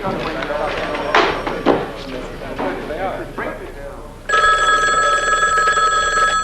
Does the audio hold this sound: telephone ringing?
yes